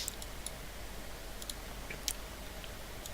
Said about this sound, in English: just by clicking